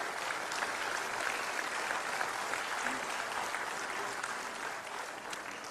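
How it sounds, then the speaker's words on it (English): Dense, sustained applause from a large crowd at a graduation ceremony for a public policy school, steady and loud throughout with no pauses. "Big round of applause for our..."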